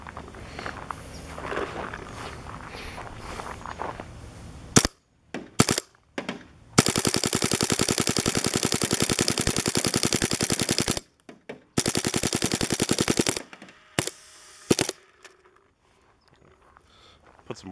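Prototype Boston Reflex Mini Cocker paintball marker firing: sharp rapid pops in fast strings, loud and close, with a few single shots and short pauses between bursts.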